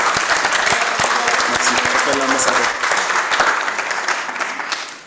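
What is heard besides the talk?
audience applause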